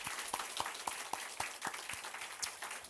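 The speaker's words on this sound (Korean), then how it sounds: "자, 우리 주님께 영광의 박수." A church congregation claps for the Lord in a steady, evenly spaced rhythm, each clap a distinct crisp hit, moderately quiet and somewhat distant in the room.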